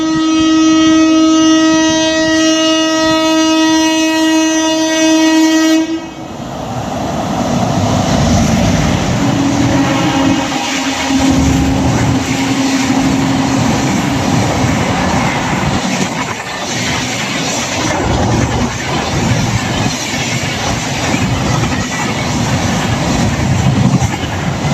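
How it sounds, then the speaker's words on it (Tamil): The KSR Bengaluru Rajdhani overtakes the Andaman Express, opening with a loud sustained horn blast, then a steady roar of passing coaches and rumbling wheels, close and continuous, with a second shorter horn tone midway. "என்ன வண்டினா KSR பெங்களூரு ராஜதானி இப்போ ஓவர்டேக் அடிக்க போகுது."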